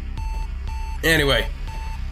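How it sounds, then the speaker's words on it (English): Repeated electronic beeping in the video game Axiom Verge, a steady tone sounding in short pulses with a longer burst in the middle, while someone talks over part of it. "now the annoying beeping is gonna happen"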